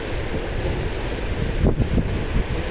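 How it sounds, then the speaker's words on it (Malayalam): Heavy wind and rough water churn around a cruise ship on the Amazon River in bad weather, a constant loud blustery roar with a brief surge of sloshing near the middle. "നല്ല ഹെവി റഫ് വെതർ ആയതുകൊണ്ട് ലൈഫ് ബോട്ട് മൂവ് ചെയ്യാൻ പറ്റുന്നില്ല"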